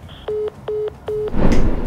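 A telephone signals a disconnected call after the phone is hung up: three evenly spaced, steady electronic beeps, loud and close, followed by a short burst of rustling noise.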